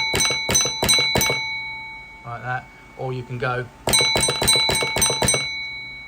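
A railway signal box block bell rings in two quick bursts of sharp, bright strikes, four then six in a row with no pauses, separated by someone talking in between.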